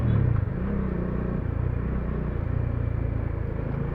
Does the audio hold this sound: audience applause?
no